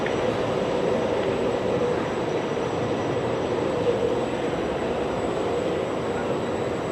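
Steady interior hum and rumble of an Italian Intercity night train hauled by an electric locomotive, a constant even drone with no talk.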